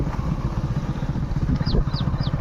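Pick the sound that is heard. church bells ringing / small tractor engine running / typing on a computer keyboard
small tractor engine running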